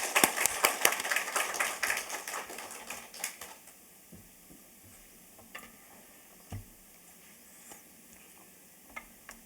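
A church congregation claps at a Friday worship service to welcome a visiting pastor, a dense burst of applause for about three seconds that quickly thins to scattered faint claps and small knocks.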